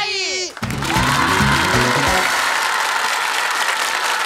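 A brief musical sting gives way to a loud burst of TV game-show studio audience applause with some cheering, while hosts talk briefly over it.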